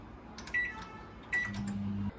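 An oven preheated to 180 degrees signals it is ready with electronic beeps: two short high chirps followed by a longer sustained tone, close and clear over a quiet room.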